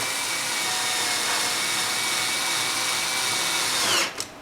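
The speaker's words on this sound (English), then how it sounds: "you want to take the screws that were provided in the kit and drive them in to the holes you've drilled earlier" A power driver spins kit screws into pre-drilled holes on a case lid, a continuous loud, close whine held steady for about four seconds before cutting off abruptly.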